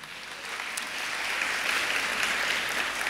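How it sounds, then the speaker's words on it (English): A church congregation breaks into applause that swells from moderate to full, a broad sustained patter of many hands with a faint voice briefly underneath. "Give him a round of applause."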